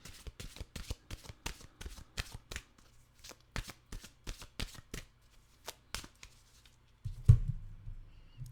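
Mantra cards being shuffled by hand, a close series of crisp rapid riffling bursts with short pauses, ending in a soft thump as the deck is set down.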